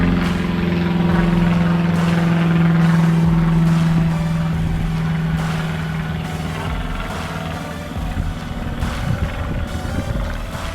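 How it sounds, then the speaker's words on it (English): Propeller airplanes pass overhead near Chesterfield airport, a loud droning engine hum with a steady tone that fades gradually as the aircraft moves away, outdoors on a conservation island. "you're gonna hear a lot of prop jobs going overhead"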